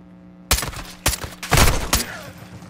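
A burst of rifle gunfire in Call of Duty: Modern Warfare 2, several sharp loud shots in quick clusters across a couple of seconds, close and dominant with no talk.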